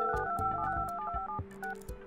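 Telephone dialing effect in the Project Highrise building game as phone service is placed: a quick run of short electronic tone beeps in irregular rhythm over about two seconds, fairly quiet and without speech.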